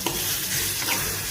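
Chicken liver fries with onions, rock salt and turmeric in a pan, giving a close, steady, loud sizzle with a light scrape of stirring. No one talks over it.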